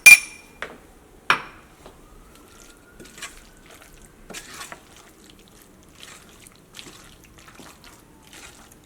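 Cooked plantain being mixed with salt in a bowl, heard as a few sharp clinks and knocks of a utensil against the bowl, loudest at the start and then scattered soft taps and scrapes in a quiet kitchen.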